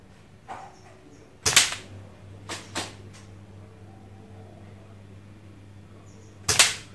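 An S&T M870 spring-powered airsoft shotgun with a real wood stock fires three sharp, loud cracks, spaced irregularly, with a low steady hum and faint clicks between shots.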